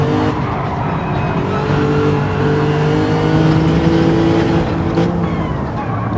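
Race car engines in Gran Turismo 7 at Interlagos, a loud continuous whine of engines at high revs, sustained and steady with some tire squeal.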